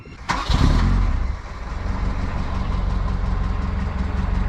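An Acura Integra DA9 engine starts with a sharp jolt, briefly revs up, then settles into a steady, rumbling idle close by.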